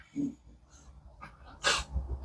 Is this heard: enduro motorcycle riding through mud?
no